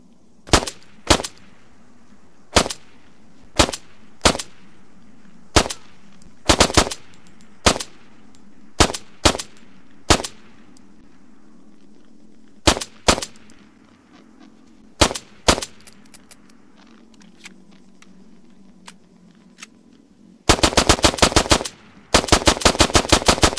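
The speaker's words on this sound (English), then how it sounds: "we have the Glock 17. Fires a 9mm round and does 500 rounds per minute." Glock 17 9mm pistol firing in an Israel Defense Forces mod for a video game, sharp single shots spaced irregularly, then rapid bursts of fire near the end, loud and close with no talk.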